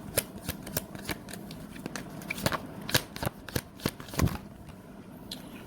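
Tarot cards being shuffled and riffled by hand, a steady run of crisp close flicks and snaps with a faint room background and no talking.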